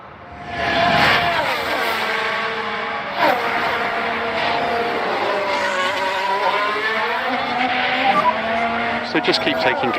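Formula 1 car in the F1 Manager racing game spinning out, engine tone swooping loudly with tyre squeal and skidding across the whole stretch, a brief impact-like burst near the end.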